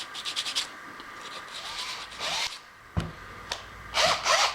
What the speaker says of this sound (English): all we have left is just knocking off some sharp edges and some real fine sandpaper